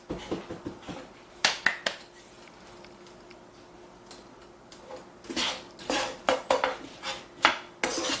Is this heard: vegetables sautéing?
yes